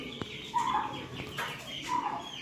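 A male domestic turkey (tom) lets out two short, warbling calls about a second and a half apart, close by over a quiet farmyard background.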